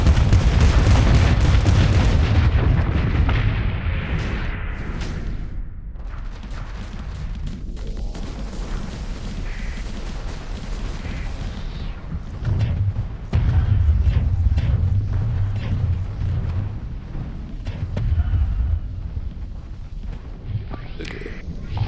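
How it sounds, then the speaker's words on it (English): Missile volleys firing in the space combat game Starsector, rumbling as heavy layered booms and blasts that swell and fade in waves, while someone talks over the action. "Time to start shooting missiles."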